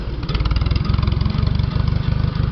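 An International 140 tractor engine just started and chugging at low idle nearby, with a steady rapid beat of firing pulses and a slight stumble partway through.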